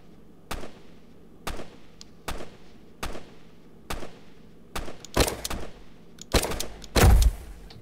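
Shotgun blasts in the first-person game Banana Shooter, fired at a steady pace of roughly one a second, each a sharp crack. The shots come faster and heavier toward the end, with overlapping bursts and one deep, loud boom.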